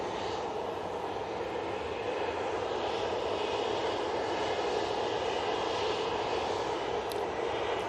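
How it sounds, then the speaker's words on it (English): A TUI Boeing 737-800 airliner moves along at Manchester Airport, its engines giving a steady, moderately loud whine and roar that holds even throughout, with no voices. "we've got this TUI now coming on."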